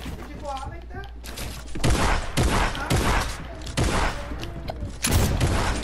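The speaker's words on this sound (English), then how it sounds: "The fireworks will more look cleaner in the night." Fireworks go off in a rapid string of sharp, crackling bangs, some overlapping and some spaced about half a second apart, with voices talking over and between the bursts.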